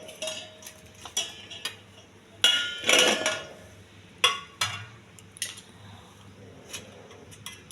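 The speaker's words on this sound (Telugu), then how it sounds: "ఈ ములక్కాయలన్నీ గిన్నెలో వేసేయాలి." Cut pieces of drumstick (moringa pods) dropped into a bowl while preparing a curry, making a series of close, irregular clinks and knocks with short pauses between them and no talking.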